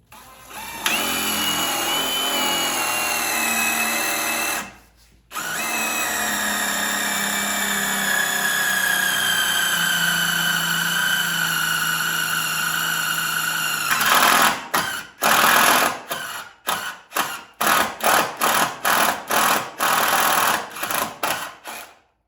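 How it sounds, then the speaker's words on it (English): A power drill with a step drill bit whines steadily at close range while drilling a hole in a car part, briefly stopping, then running for a long stretch before ending in a string of short bursts. "All you do is you mark your hole, you drill it. I'm just using a unibit."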